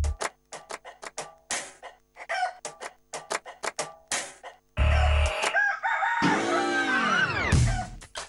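A rooster crow played as a sound cue in a quiz game on a Telugu TV serial: a run of short, sharp ticking beats, then one loud, drawn-out crow with rising and falling sweeps.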